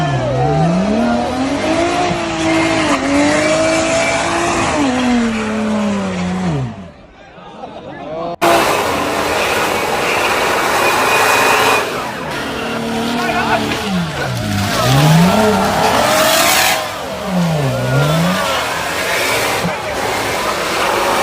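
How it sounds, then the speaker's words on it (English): Chevrolet Camaro grinding up a steep, slippery mud ramp, engine revving hard with wailing, whining tire spin and sharp swooping pitch changes. The noise cuts out briefly and then comes back loud and close. "Starting with a Chevrolet Camaro, as it struggles up the incline, the rear bumper is completely wrecked and the tires begin smoking"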